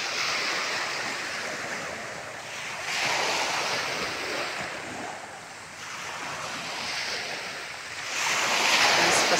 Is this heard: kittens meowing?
no